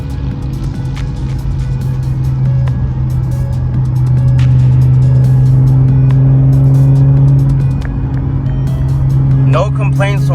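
Interior of an Infiniti G37x fitted with a Soho 3-inch single exit exhaust, with a steady loud low engine drone while cruising in gear and a voice speaking near the end.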